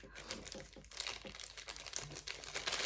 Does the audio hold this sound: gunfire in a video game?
no